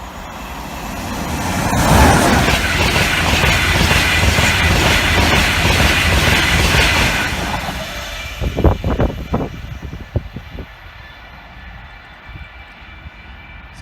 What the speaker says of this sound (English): It's not, it's just another class 91.